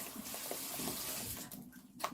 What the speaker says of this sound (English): I'm going to pour my dumplings.